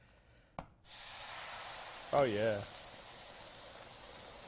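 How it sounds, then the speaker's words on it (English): Sauce sizzles and reduces in a hot pan with a steady, close hiss that starts abruptly and continues throughout, while a person briefly speaks partway through. "as soon as we put it in there, it's going to start to sizzle right away"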